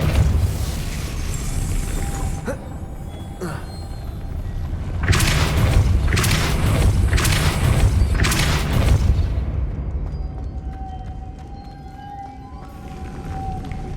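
A Depulso spell is cast in Hogwarts Legacy, giving a rumbling magical blast. Several booming bursts hit in quick succession and roll over a steady low game ambience before it fades to quieter background.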